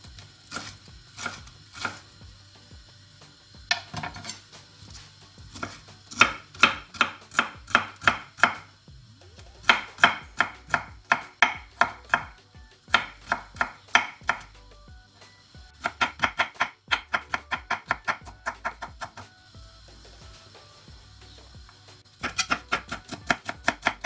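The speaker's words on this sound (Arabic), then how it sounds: "نبدأ زي الفلفل بابريكا نقطعوها" A knife chopping paprika bell pepper thinly on a cutting board for a couscous salad, a long run of quick, rhythmic close-up taps in bursts separated by short pauses, with no talking.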